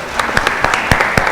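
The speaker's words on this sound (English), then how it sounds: "I think the panel deserves a round of applause" A conference audience applauds a panel after a keynote session on the NEP, with distinct, irregular hand claps close by, fairly sparse rather than a dense roar.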